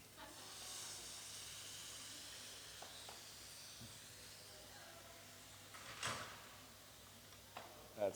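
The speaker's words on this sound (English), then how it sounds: "That's steam." Faint steady hiss of steam rises from mushrooms deglazed with lemon water in a pan, with a few light ticks and clatters of cookware over the quiet sizzle.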